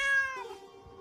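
A cat meows once in a video game, a clear, close harmonic cry that slides downward and trails off, heard alone with no talk over it.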